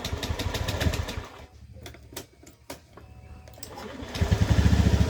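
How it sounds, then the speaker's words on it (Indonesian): Honda Beat ESP scooter with a rattling noise when the throttle is released, starting and settling into a puttering idle, with rapid rhythmic clatter that drops briefly, then returns louder and steadier, close by with no talk. "Oke, kita nyalakan unit motor."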